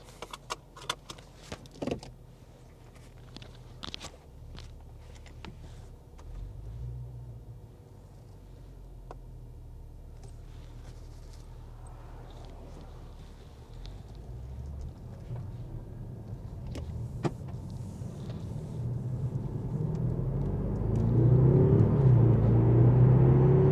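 Interior recording of a car on a drive, with a steady low engine and road rumble that grows louder and heavier toward the end, a few clicks and knocks early on, and no talking.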